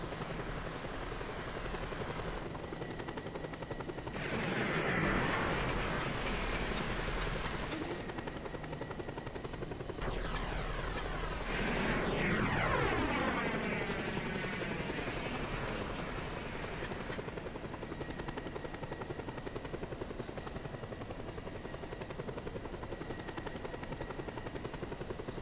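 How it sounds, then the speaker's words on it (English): A helicopter in a video game hovers loudly nearby, its rotor chop and engine whine holding steady with a few sweeping surges as it moves, and no voices. "Helicopter was just in front of"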